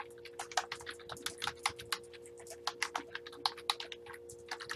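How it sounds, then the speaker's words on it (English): A name is typed on a computer keyboard in quick, irregular clicking keystrokes, close and clear over a steady low electrical hum. "And I will type a name in here."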